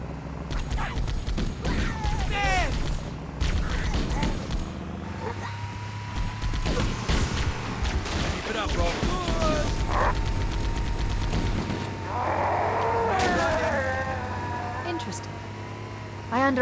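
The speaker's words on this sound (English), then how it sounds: "They've locked the doors, and we don't have enough firepower to get through them." Mechanical door locks clank and ratchet in the video game Halo, with creaking gears, grinding whirs and metallic clicks in several bursts, mixed with game effects and voices talking over them.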